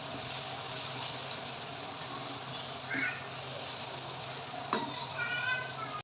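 Tomato paste frying in a pot for a dal chana and mash dish, a soft continuous sizzle with a couple of brief stirring clinks, steady and moderately quiet throughout.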